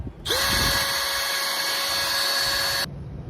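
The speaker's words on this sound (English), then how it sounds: "I'm just drilling a tap hole, and then I'm going to use a 3/16 inch drill bit" A power drill whines steadily at high pitch for a few seconds while drilling a tap hole, then stops abruptly. It is close and loud.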